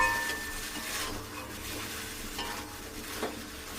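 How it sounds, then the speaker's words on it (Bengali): Chickpeas and paneer fry in a pan with a continuous soft sizzle while a utensil stirs and scrapes through them, steady and fairly quiet at close range. "কাবলি ছোলাটা দিয়ে দিয়েছি, দিয়ে একটু কষাবো, কষিয়ে পনিরটা দিয়ে দেবো।"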